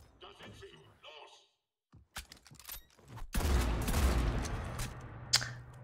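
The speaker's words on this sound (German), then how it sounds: "Und sie kann auch schießen." Gunfire erupts in the sci-fi shooter Mass Effect 3 after a quiet stretch of voices: a dense, loud burst of rapid shots fills the last few seconds, with one sharp crack near the end.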